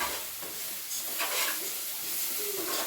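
Onion and ginger paste frying in oil for chicken curry, a soft continuous sizzle with faint stirring strokes, moderately quiet and without talk.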